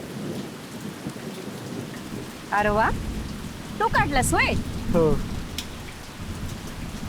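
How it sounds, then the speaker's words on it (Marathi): Steady heavy rain pours throughout, with brief voices speaking over it partway through. "अरे किती पाऊस आहे"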